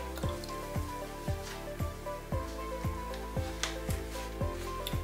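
Water drips onto garden soil sown with tomato seeds in a soft, evenly spaced series of about ten close, wet drops with a quiet background.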